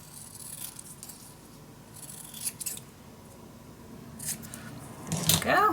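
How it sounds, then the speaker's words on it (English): Scissors cutting paper for a mini album craft project, several close snips and rustles that grow louder toward the end. "Just cut this out with a small golden edge."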